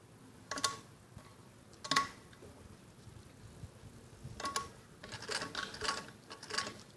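A sewing machine stitching a children's skirt top runs in short, quiet bursts of mechanical ticking, separated by pauses, with a busier cluster of runs near the end.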